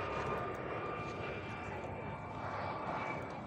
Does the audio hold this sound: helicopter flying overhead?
yes